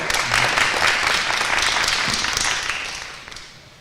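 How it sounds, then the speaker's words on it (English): Applause from the audience at a candidate forum held by civic groups in Central Florida, a dense burst of clapping that thins and fades over a few seconds. "Y'all can applaud."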